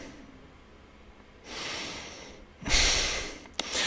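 Heavy breathing close to the microphone: two loud, drawn-out breaths, the second stronger with a sharp snort-like catch at its end, against quiet background.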